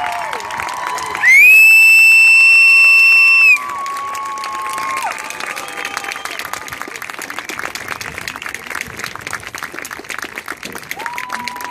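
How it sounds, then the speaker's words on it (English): Crowd applauding and cheering for young performers at a marching band finale and awards event, a long loud wash of clapping with shouts and a sustained whistle tone early on. "Folks, how about another round of applause for all of these talented,"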